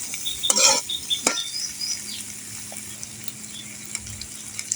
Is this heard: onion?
yes